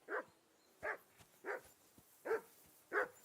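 A dog in the video game Kingdom Come: Deliverance II barks five times at a steady, evenly spaced rhythm, each bark short and moderately close, over quiet background.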